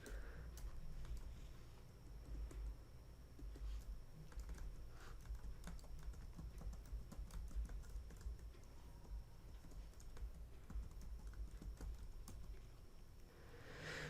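An email address is typed on a computer keyboard, a quiet, steady patter of individual key clicks close by, running continuously with no talking.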